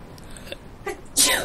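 A single sharp sneeze bursts out near the end, loud and close, following quieter breathy sounds and faint game noise during Reassembly play.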